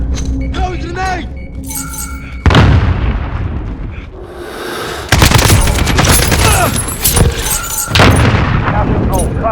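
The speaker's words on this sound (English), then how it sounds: "Throwing grenade!" Rapid gunfire and heavy grenade explosions in Call of Duty: Modern Warfare multiplayer at a train station, with loud booming blasts around 2.5 and 5 seconds, dense shots throughout and shouted voices over the chaos.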